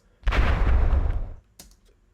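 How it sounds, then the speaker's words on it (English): Distorted atomic bomb explosion effect: a loud, broad blast that hits hard, roars with deep low-end rumble for about a second, then drops away, followed by a brief fainter crackling tail. "Explosion impact."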